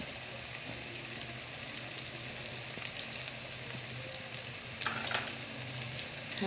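Spices sizzle in a pan for goat curry while a spoon stirs them, a steady, close frying hiss with soft scraping and a brief louder burst of sizzle near the end.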